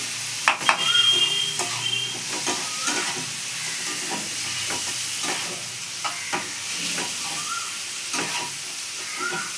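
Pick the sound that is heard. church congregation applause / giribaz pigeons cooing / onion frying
onion frying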